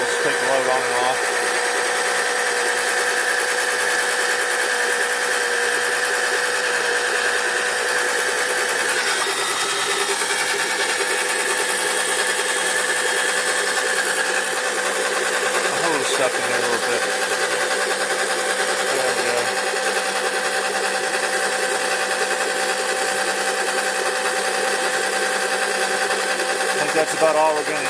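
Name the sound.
suction oil pump extracting engine oil, cavitating with air bubbles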